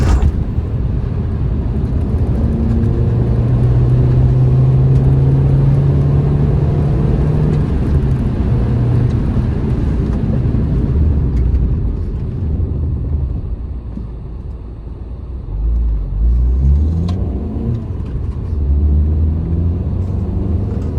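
A classic Mini on a road test drive runs with a steady engine drone and road rumble, then slows under braking before picking up again, the sound continuous and close throughout.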